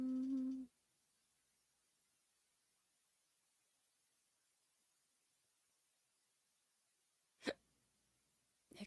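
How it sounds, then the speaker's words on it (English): Hiccups: a loud voiced hiccup right at the start, then a long quiet gap before a second sharp, brief hiccup near the end, with no talking. "Hiccups."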